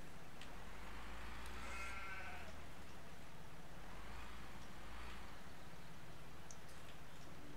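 Sheep bleat a few times in a farming video game, faint and spaced apart over a quiet background.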